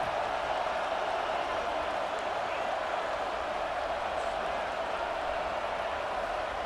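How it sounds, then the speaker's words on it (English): Steady roar of a packed stadium crowd at a Miami vs LSU college football game, a dense, continuous wash of noise holding constant throughout with no distinct voices standing out. "Listen to the crowd energy here in the early going."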